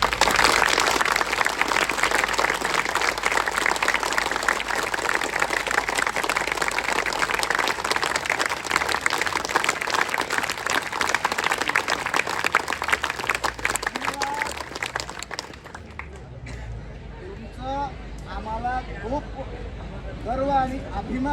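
A large crowd at a Nashik protest gathering applauds for Nilesh sir and the presidents of six talukas, with loud sustained clapping for about fifteen seconds before it fades and a voice begins talking over the thinning claps.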